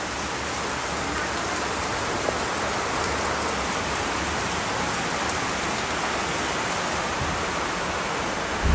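Steady rain falls during a monsoon downpour, a dense, even hiss of drops that holds constant throughout with no talking.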